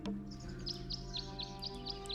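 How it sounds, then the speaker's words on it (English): Bird song in the video game Tangle Tower: a regular series of about eight short, bright chirps repeating evenly over a steady low musical hum. "He's listening to the bird song."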